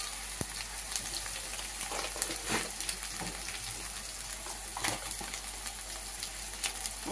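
Chili powder, salt and turmeric fry in hot oil for a bottle gourd dish, giving a steady, close crackling sizzle with scattered sharper pops throughout, with no talking.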